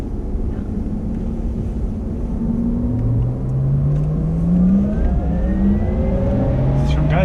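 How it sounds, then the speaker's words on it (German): Porsche Taycan at speed on the Hockenheim race track, its electric drive whine climbing in pitch and dropping with a quick gear change before rising again, loud and close under steady road and wind roar with a voice talking over it. "Das ist schon geil, dieser Schaltvorgang nochmal. Wie er da den Gang wechselt."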